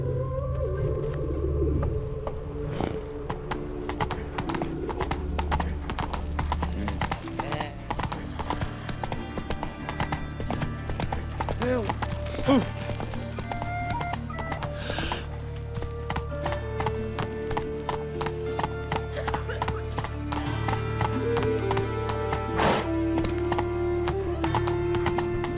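A horse trots and clip-clops steadily through the whole stretch in The Witcher 3 game, with a whinny in places over layered ambient game sounds and some spoken dialogue.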